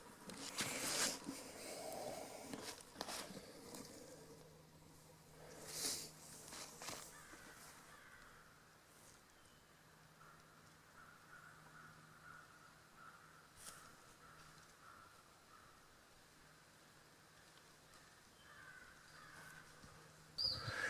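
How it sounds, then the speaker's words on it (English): Distant crows caw several times in Alabama woods, with a couple of louder calls near the start and end, over faint outdoor background. "them crows are cutting up about something."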